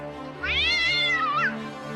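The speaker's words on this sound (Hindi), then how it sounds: "ये बिल्ली भूखी है और हमें खाना चाहती है" A cat gives a single drawn-out meow with a rising then falling pitch, clear and close, with no talking over it.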